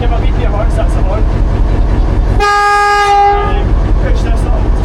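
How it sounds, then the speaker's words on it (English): A diesel locomotive's horn at the Fife Heritage Railway sounds one loud, close, harmonically rich blast lasting about a second amid the engine's steady rumble. "that's the horn"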